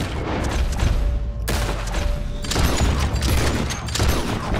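Rapid bursts of video game gunfire, loud and close, with dense overlapping shots and a brief break partway through.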